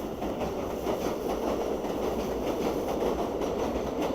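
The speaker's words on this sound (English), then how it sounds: "You live right under the train." A train rumbles by overhead on elevated tracks, a steady loud roar with rhythmic clattering from the wheels, unbroken for the whole stretch with no voices.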